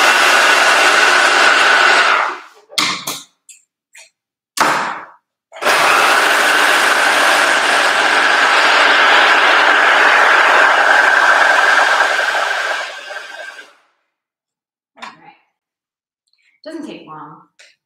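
An overlock machine stitches the fabric edge of a headband with close, buzzing mechanical runs: a few short bursts, then one long steady stretch, then quiet with faint handling noises.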